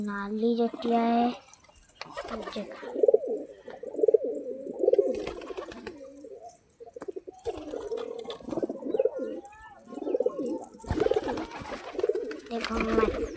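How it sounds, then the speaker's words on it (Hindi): Pigeons coo repeatedly in low, throaty bursts at close range, with a brief dove call at the start and someone speaking intermittently over them. "कबूतर है"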